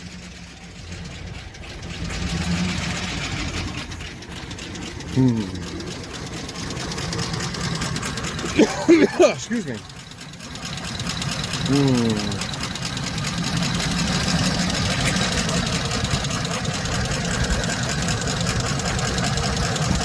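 A 2007 Chevy Express 3500 engine idles with a sticky lifter, giving a steady mechanical run with fast light ticking throughout, recorded close up; a person speaks briefly over it.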